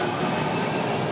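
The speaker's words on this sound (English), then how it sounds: "Welcome to the Washington, D.C. Metro." Washington, D.C. Metro subway train heard from inside, a steady loud broadband rumble and hiss with no breaks and no voices.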